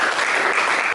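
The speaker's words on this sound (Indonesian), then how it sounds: "Oke, tepuk tangan untuk Tata." Classroom applause from a group of students, a dense and steady clapping that fills the short moment at moderate loudness with no voices over it.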